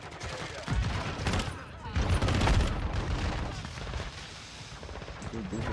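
Rapid gunfire from an FR Avancer rifle in the video game Modern Warfare 2, loud dense bursts layered with game effects and a voice underneath.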